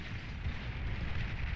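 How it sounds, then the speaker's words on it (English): Bomber explosions in the Beyond All Reason strategy game merge into a continuous low, crackling roar with a hissing wash on top, steady and moderately loud without distinct separate blasts. "that was a very good bomb run there"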